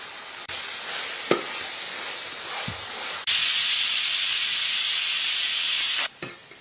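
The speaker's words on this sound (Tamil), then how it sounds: "இஞ்சி பூண்டு பேஸ்ட் ஆட் பண்ணி பச்சை வாசனை போற வரைக்கும் வதக்குங்க" Ginger garlic paste and 300 grams of tomatoes are sautéed in a pan for a banana-leaf biryani. A close, steady sizzle with a few stirring scrapes becomes a much louder, bright hiss midway, then cuts off abruptly near the end. No one speaks.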